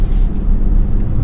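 A 2023 Genesis G90 with its 375 hp engine pulls at full throttle, heard from inside the cabin as a steady, subdued low rumble with road noise and no sharp peaks.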